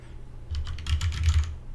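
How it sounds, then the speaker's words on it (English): Quick burst of keystrokes as a URL is typed on a computer keyboard, close and clear with no talking, tapping rapidly for under two seconds. "it's just google.com, and then you type in"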